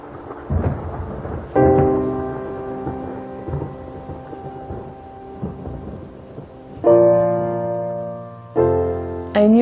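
A thunderstorm with rumbling thunder and steady rain, loud and close, with deep rolling crashes swelling and fading across the scene.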